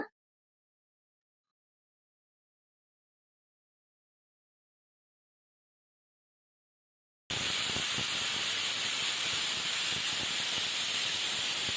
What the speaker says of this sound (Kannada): ಇವಾಗ ಕುಕ್ಕರ್ ಕ್ಯಾಪ್ ಕ್ಲೋಸ್ ಮಾಡಿ ಎರಡು ವಿಜಲ್ನ ಹೊಡೆಸ್ಕೊಳ್ಳೋಣ